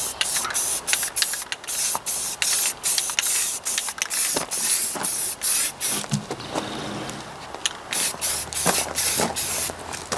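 Spray primer goes onto a brand-new Ford 800 cylinder head in a single coat, as a run of short, close, sharp hissing bursts from the can with brief gaps between them.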